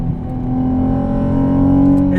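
A VW Corrado VR6 engine drones loud and close from inside the cabin, its steady tone rising gradually under acceleration, with a brief faint sound near the end.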